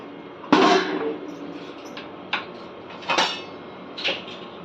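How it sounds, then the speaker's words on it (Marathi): A metal lid is set onto a pressure cooker with a sharp clang, followed by several lighter metallic knocks and clinks as it is fitted and locked in a home kitchen. "आता कुकरला झाकण लावून गॅस पेटून आता शिजत ठेवूया आपण"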